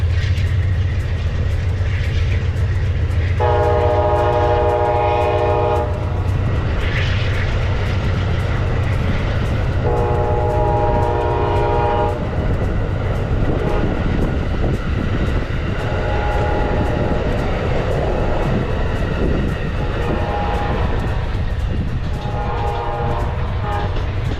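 Amtrak passenger train rolling past in South Florida, a loud continuous rumble with two long horn blasts early on and shorter horn calls later, close by with no talking.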